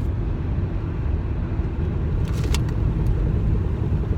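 A car on the road during a drive home from Comic-Con, shaking from warped brake rotors, gives a steady, loud low rumble with no voices.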